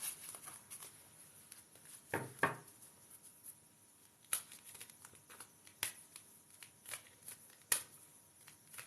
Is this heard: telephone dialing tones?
no